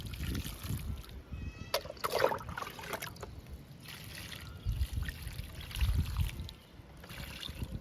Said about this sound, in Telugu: బంతి మొక్కలకి వాటర్ ఇస్తున్నా.